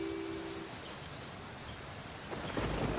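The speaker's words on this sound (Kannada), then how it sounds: "ಆಚೆ ಇಷ್ಟೊಂದು ಜೋರಾಗಿ ಮಳೆ ಬರ್ತಾ ಇದೆ" Heavy rain and thunder outside a house in a Kannada horror film scene make a faint, steady hiss with a low rumble swelling near the end, and no one talks.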